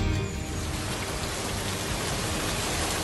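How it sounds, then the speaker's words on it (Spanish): Steady rain falling in an afternoon shower along a rural pilgrimage road in Jalisco, a dense, even hiss with no voices. "empezó a llover mientras caminábamos"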